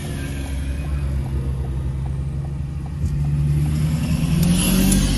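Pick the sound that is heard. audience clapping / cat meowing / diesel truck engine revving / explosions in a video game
diesel truck engine revving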